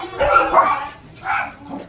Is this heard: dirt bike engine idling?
no